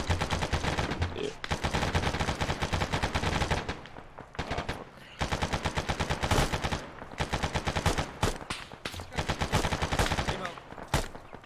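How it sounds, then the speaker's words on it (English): Loud gunfire in a military video game: rapid automatic bursts and single shots crack nearly nonstop, broken by a few short gaps, with faint voices underneath. "We're taking shots from the south."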